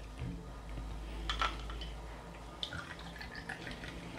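Vodka poured for an espresso martini, a short soft liquid trickle and drip near the microphone, quiet and brief with faint clinks against a low background hum.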